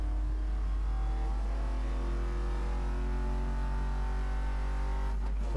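A Porsche Panamera Turbo S in Need for Speed Most Wanted (2012) pulls away with a steady, loud engine drone that rises smoothly in pitch as it accelerates, with a short burst of clatter at the end.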